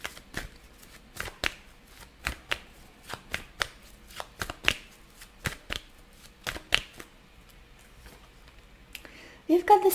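Tarot cards are shuffled by hand in close, crisp, repeated snapping riffles over a quiet background, and a brief voice comes in at the very end.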